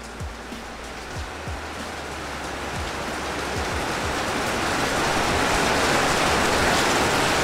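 Steady rain falls outdoors as a broad, even hiss that slowly grows louder, with a few low thumps from handling nearby and no speech.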